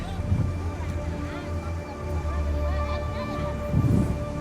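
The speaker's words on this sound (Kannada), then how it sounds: "ಆ ರೇಂಜಿಗೆ ಗಾಳಿ ಬೀಸ್ತಾ ಇದ್ದೆ ಇಲ್ಲಿ." Strong sea wind gusts at night on the Kanyakumari shore near moored boats, a steady low roar with heavier buffeting bursts at the start and end, close to the microphone.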